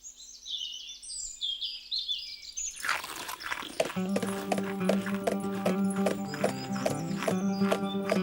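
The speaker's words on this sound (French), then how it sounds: "C'est un cheval, c'est pas un âne." Horse hooves clip-clop steadily on hard ground, with a horse snorting and a brief whinny; birds chirp faintly at the start before the hoofbeats take over.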